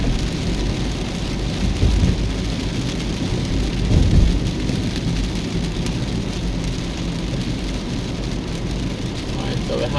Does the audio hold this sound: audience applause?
no